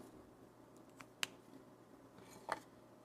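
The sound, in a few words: scissors cutting an underglaze decal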